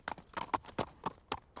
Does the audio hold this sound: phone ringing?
no